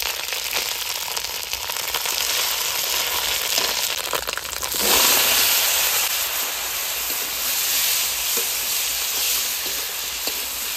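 Cumin seeds and bay leaf sizzling in hot oil as tempering for a fish curry, a steady bright hiss that jumps louder midway as ingredients hit the pan, continuous and close.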